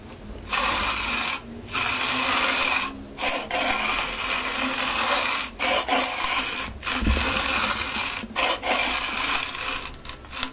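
Coffee beans ground by hand in an old manual grinder on a rural farm, a rough rasping crunch repeated in steady strokes with brief pauses between turns, close and fairly loud, no talk.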